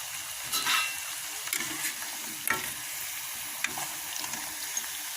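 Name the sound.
elephant foot yam chips frying in oil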